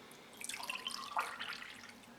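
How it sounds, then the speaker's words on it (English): Liquid poured from a bottle for tasting, a soft-drink-like beverage: a brief splashing trickle with a small gurgle near the middle, close and fairly quiet, with no talking. "Let's pour some and give it a taste."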